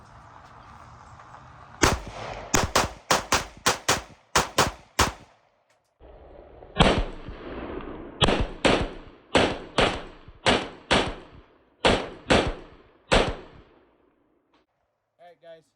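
CZ 75 9mm pistols fired single action outdoors: two strings of sharp, loud gunshots in steady rapid succession, about eight to ten rounds each, separated by a short pause, with a faint voice at the end.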